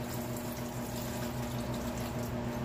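A wringer washer runs laundry back through its rollers to squeeze out the remaining water, with a steady motor hum and continuous splashing, dripping water close by, with no talk.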